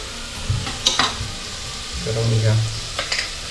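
Onions fry in oil in a pot for homemade chicken biryani, a continuous sizzle broken by spoon clatter and stirring scrapes, with someone briefly speaking over it.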